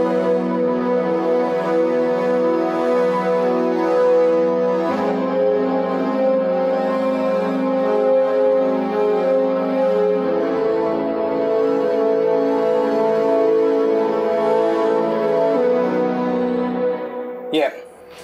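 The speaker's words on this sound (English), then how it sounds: "the synth 2 is playing a pad that's very static but with a lot of movement in it" Layered synthesizers, a static but shifting pad with higher synth notes above it, hold sustained tones that change chord around five and ten seconds in, steady and unaccompanied, ending with a brief click.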